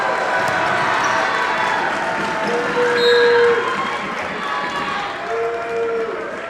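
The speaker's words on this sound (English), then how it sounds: "and he hears it from the crowd." Crowd at a high school boys basketball game in a gym, a continuous roar of voices and cheering holding steady, with faint whistle-like tones and court sounds mixed in.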